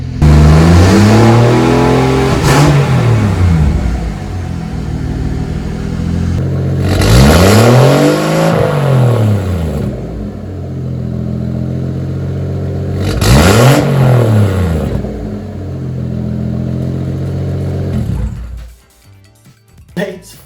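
A turbocharged Mercedes W203 with an M104 engine runs at a loud idle and revs hard three times at even intervals, each rev climbing and falling, before cutting off.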